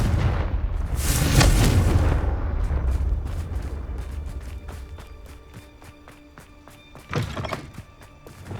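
A Confringo fire spell bursts in Hogwarts Legacy with a heavy, rumbling boom early on, then a sharper second blast near the end amid game ambience and faint clicks.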